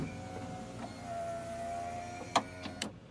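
Faint whirring hum of the window motor actuator in a 2006 Toyota Highlander as the window moves, with loose screws causing a couple of brief clicks and knocks near the end.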